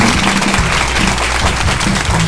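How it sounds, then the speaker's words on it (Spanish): A live audience at a podcast recording session applauds continuously, with dense, loud clapping that fills the space and stays steady across the whole moment. "Claro que sí, un aplauso."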